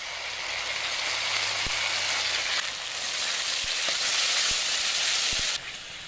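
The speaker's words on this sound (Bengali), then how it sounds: "এখন আমি পেস্ট করা মশলাটা দিয়ে" Spice paste sizzling in hot oil with browned chopped onion for a sweet tangra fish curry, a steady close frying hiss with a few faint clinks of a spoon against the pan, dipping briefly near the end.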